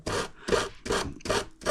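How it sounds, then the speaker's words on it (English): Sandpaper rubbing back epoxy on an ABS RC boat hull, five rhythmic rasping strokes close up, each scrape with a short pause before the next. "I'll just sand it back."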